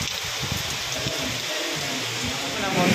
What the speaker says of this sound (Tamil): நம்ம வந்துட்டு சென்னையில் மழையத்தான் பார்க்க வந்திருக்கோம்.